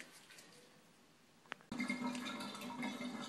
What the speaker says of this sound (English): Okay guys, so I'm draining the water in here now.